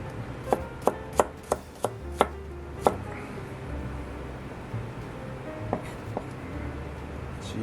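Garlic chopped on a cutting board, about seven sharp, close knife strikes in a quick run, then a few scattered softer taps, with no talk.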